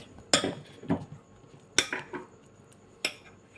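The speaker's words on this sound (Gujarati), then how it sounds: "આવી રીતે હું બેટર બનાવી લઈશ।" Bottle gourd dhokla batter being mixed in a bowl, with a spoon striking the sides in a few separate sharp clinks and scrapes, close and clear against a quiet room.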